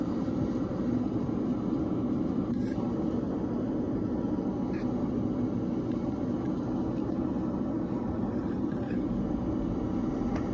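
Steady broadband roar inside the cabin of a British Airways Concorde airliner during supersonic flight, constant and unbroken, with faint clicks over the low rumble and no voices.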